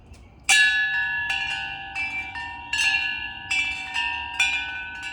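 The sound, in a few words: homemade wind chimes made from cut pipes ringing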